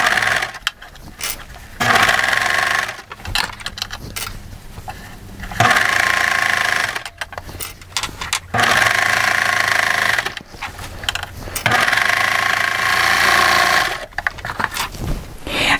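A Baby Lock serger stitches a seam in stretchy athleisure fabric, its fast whirring motor running in several bursts of a few seconds each, separated by short pauses, close and fairly loud.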